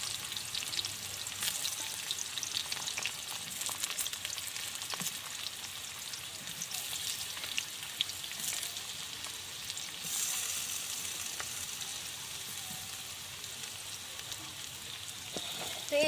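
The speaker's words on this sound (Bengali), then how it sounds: "তো এঁচোড়টাকে খুব ভালোভাবে ভাজতে হবে।" Young jackfruit pieces frying in oil in a pan, a steady broadband sizzle running through the whole stretch with occasional faint stirring clinks, close and continuous with no talk.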